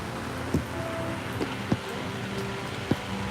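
Rain falls steadily at an amusement park with rides still running, a soft, even wash of patter broken by a few sharper drips and taps.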